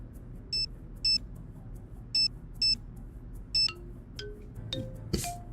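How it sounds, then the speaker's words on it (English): Phone call tones in the Nancy Drew: Deadly Device video game: five short, evenly spaced electronic beeps, followed by a few fainter clicks and a louder final blip. "And let's make some phone calls."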